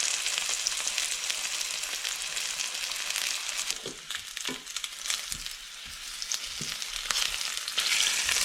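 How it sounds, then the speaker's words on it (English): Ormers (abalone) sizzle and crackle steadily as they fry in hot oil, a continuous hiss with a few sharper pops and stirring scrapes partway through, no talking. "Got our oil nicely hot now. What we're going to do is just throw our ormers in."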